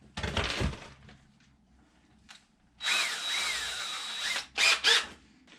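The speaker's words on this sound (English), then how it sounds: "Just use a bigger drill bit. That bigger drill bit will work like a countersink." A power drill with a bigger bit cuts a countersink in a homemade wooden boot brush, a few short close whirring bursts with pauses between.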